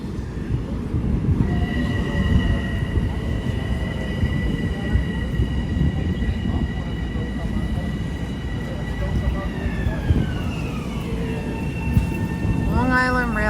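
Long Island Rail Road train passing close by, a continuous loud rumble of wheels on rails with sustained tonal whine from the train that slides downward near the end, and wheel squeal at the close.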